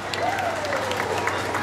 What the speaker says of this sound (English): Let's give a round of applause for Tom's.